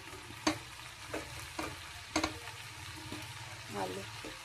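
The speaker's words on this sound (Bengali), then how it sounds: "ভেজে রাখা কুমড়ো আর আলুগুলো দিয়ে দিলাম।" Fried pumpkin and potato pieces drop into a sizzling pan of sautéed spices for a Bengali pachan, with a low steady frying hiss broken by several soft scraping stirs and clinks of a spatula, fairly quiet and close.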